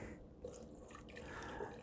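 Water poured into the reservoir of a Bunn home coffee maker, a faint, steady trickle and splash heard on its own without talk.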